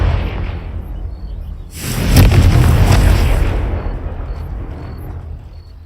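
A Confringo blasting spell goes off in Hogwarts Legacy, a loud booming explosion swelling about two seconds in and rumbling on for a few seconds before fading, set over a steady bed of background game ambience.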